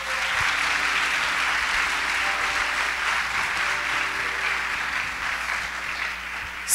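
A church congregation at a celebration service breaks into loud, sustained applause. Dense, even clapping from many hands fills the room for several seconds without pause, close and full.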